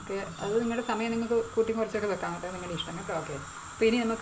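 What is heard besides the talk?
steam hissing from puttu steamer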